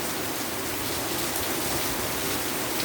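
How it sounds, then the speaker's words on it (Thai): Steady rain falls in a dense, even hiss that fills the whole stretch, with no voices. "ฝนตกพี่น้องเอ้ย"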